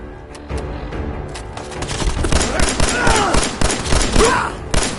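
Gunfire in the video game Fallout 4, a rapid volley of loud close shots in uneven bursts with booming impacts, building in intensity over a noisy combat background.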